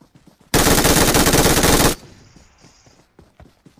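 A loud, close burst of rapid automatic gunfire from the mobile battle game BGMI lasts under two seconds and cuts off sharply into near quiet.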